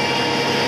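A brand new John Deere W235 windrower used for mowing hay runs with a steady, loud engine drone and broad mechanical hum, constant and close, with no talking.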